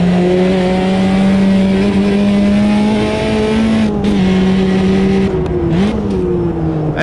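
Drift car engine in the Automobilista 2 racing game, a loud steady drone with strong harmonics that holds a constant pitch, then dips and wavers briefly near the end as the car slides, with no talk over it.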